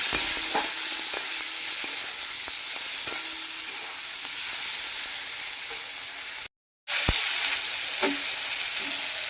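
Spinach and mixed vegetables fry with turmeric and salt in a pan, giving a steady broad sizzle with occasional scraping stirs; a brief silent gap breaks it near the end before the frying resumes.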